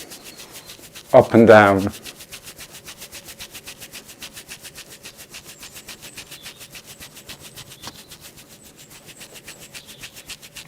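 Fingertips rubbing up and down in front of and behind the ears through a beard, giving a soft, rapid, steady scratchy friction that continues throughout. A brief burst of close speech comes near the start.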